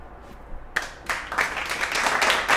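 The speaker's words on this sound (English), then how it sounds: "Round of applause." Applause breaks out after a short quiet lead-in, a dense burst of many hands clapping that builds and keeps going at moderate loudness.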